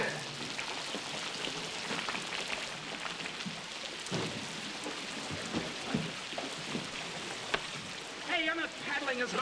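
Artificial rain effect on a 1970s film set, a dense continuous hiss of falling water with scattered patters and splashes, fairly close and unbroken, with some voices toward the end.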